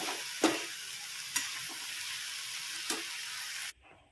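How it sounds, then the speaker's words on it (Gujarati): A cooking dish is stirred in a pan over a steady sizzle, with three distinct spoon scrapes spaced a second or so apart; the sizzle then cuts off abruptly near the end, and no one speaks. "બધાને સારી રીતે હલાવી અને થોડી વાર માટે ચડવા આપી દઈશું"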